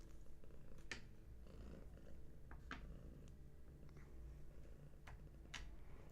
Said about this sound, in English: And Gertie just purring away.